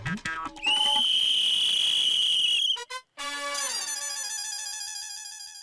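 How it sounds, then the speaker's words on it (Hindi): A police whistle blows in long, shrill trilling blasts, loud and close, with a brief gap before a second sustained whistle. "पुलिस की सीटी की भी कोई वैल्यू नहीं।"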